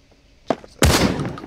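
A PKM machine gun in the video game Badlanders: a sharp shot after a quiet moment, then a loud, sustained burst of fire close by.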